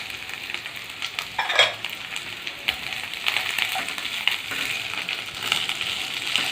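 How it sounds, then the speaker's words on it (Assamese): Onions and capsicum sizzle and fry in a hot pan for paneer chilli, with steady crackling and occasional stirring scrapes close up, no voices. "ক্যাপসিকাম দিয়াৰ পিছত আমি দিম পিঁয়াজখিনি।"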